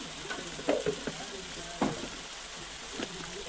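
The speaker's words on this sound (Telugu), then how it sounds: "చికెన్ అయితే మనకు మంచిగా వేగింది" Chicken frying in a pan with chilli powder, a steady close sizzle with several scraping stirs against the pan, no speech.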